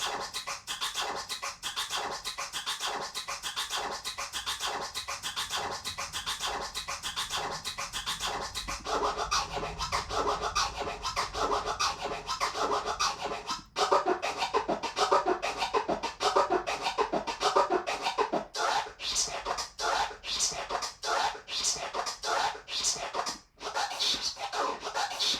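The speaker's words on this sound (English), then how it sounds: "let's hear what the Joel Cooley scratch sounds like looped" Looped DJ turntable scratching in a Joel Cooley scratch pattern, a dense, steady run of rapid cuts repeating at close range for the whole stretch with no talk.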